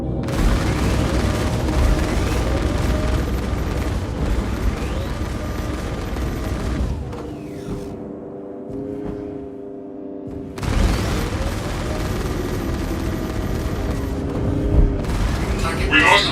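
Rapid gat cannon fire and booming explosions in a video game, dense and loud, broken by a short lull with droning tones before the barrage resumes, with voices and game announcements over it.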